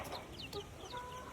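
A large hen clucks among young chicks, with a few short close clucks and higher chirps over faint background noise.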